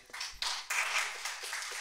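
Students in a classroom applaud for themselves in a few short, quiet rounds of clapping heard from a distance, with no talking over it.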